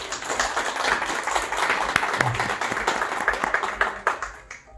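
Loud applause from an audience at a literary reading circle in Puebla, a dense, steady patter of clapping hands holding for several seconds before tapering off at the end.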